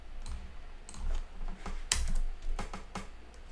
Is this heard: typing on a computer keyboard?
yes